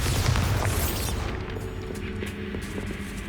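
A Bombarda explosion spell goes off in the video game Hogwarts Legacy: a loud, close, booming blast at the start that fades into a lingering rumble.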